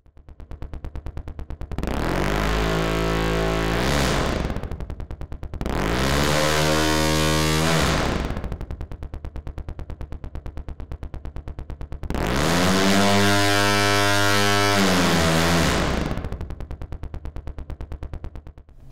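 Software-simulated car engine with studio convolution reverb, heard alone in three long rev sweeps, each rising and falling in pitch with a buzzy, synthetic harmonic tone, separated by short gaps of a low idle.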